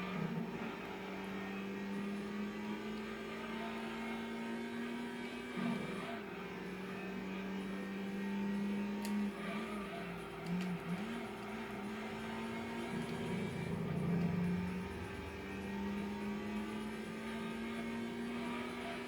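Race car engine lapping the Seattle circuit in Gran Turismo 2, a steady droning whine that dips and climbs through gear changes and braking, sustained throughout at moderate level with a faint voice now and then.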